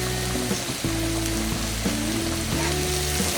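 Vegetables for white sauce pasta sizzle steadily in a pan on low flame, a loud, close, continuous frying hiss with a steady hum running underneath.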